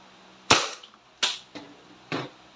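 A Crosman SNR 357 airgun revolver fires four sharp, close pops at irregular intervals, each a crisp crack with a brief tail and quiet gaps between shots.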